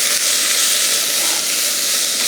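Garlic and ginger sweat in softened butter in a hot pan, giving a steady, close sizzle and hiss that holds even and unbroken throughout, with no voices.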